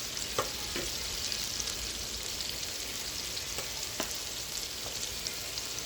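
Ground spices — salt, turmeric, chili and coriander powder — sizzling and being stirred in a pan for black chickpea bhuna, a steady bright frying hiss with a few sharp scrapes of the spoon, close and continuous with no talk.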